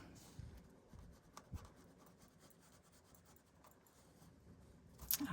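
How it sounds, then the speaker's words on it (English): Bone folder rubbed along a paper feather being made as a craft embellishment, a soft quiet scraping that runs steadily with a few light taps and a brief louder rustle near the end. "whoops, almost forgot to use the bone folder"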